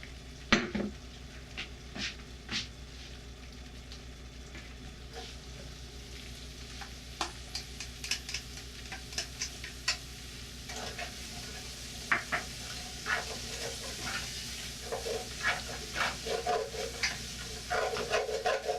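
Vegetables sizzle steadily in olive oil in a pot, with a constant frying hiss broken by spoon scrapes and clinks against the metal as they are stirred.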